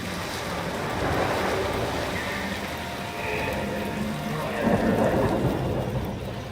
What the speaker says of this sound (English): He brings the storms with him.